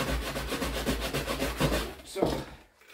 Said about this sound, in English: even with just a little bit of sanding, it's a lot better.